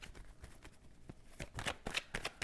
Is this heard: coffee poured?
no